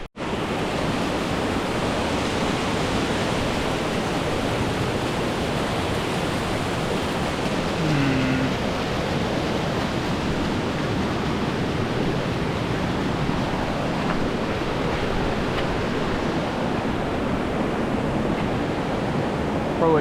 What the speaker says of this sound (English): Water coming down.